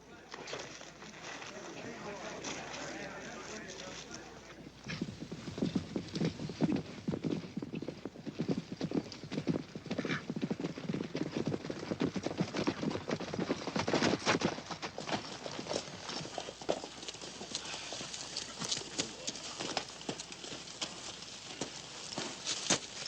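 Steady clip-clop of horse hooves walking along, continuous and fairly close, with voices talking over it and a brief whinny.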